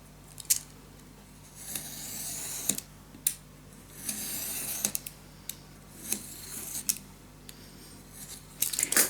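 Scissors cut paper for a travel-suitcase scrapbook mini album, making a series of close, crisp snips and slicing rasps at irregular intervals over a faint room hiss.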